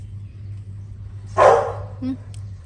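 A single sharp dog bark at a cat rings out close by, followed by a shorter yip, over a low steady hum.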